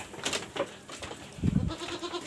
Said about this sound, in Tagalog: Pakawalan natin yung kambing natin.